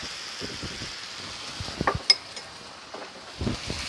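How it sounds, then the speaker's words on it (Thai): Okra stir-fried with shrimp paste in a pan gives a soft steady sizzle, with scattered light scraping and clinks of a spatula against the metal, close by and with no talking. "ผัดคลุกเคล้าทุกอย่างให้เข้ากันดีค่ะ"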